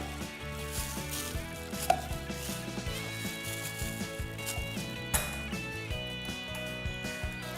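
A meat grinder fitted with a coarse blade grinds steak in a kitchen. A steady mechanical hum runs under repeated knocking, crunching thuds, with a couple of sharper clanks standing out.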